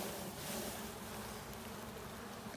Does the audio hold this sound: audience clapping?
no